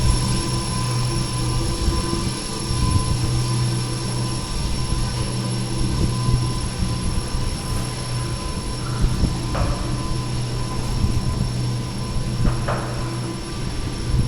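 A Kone EcoDisc lift motor with an NMX VF drive runs in a lift shaft in Liverpool, giving a loud, continuous droning hum with steady tonal whine and a few faint knocks.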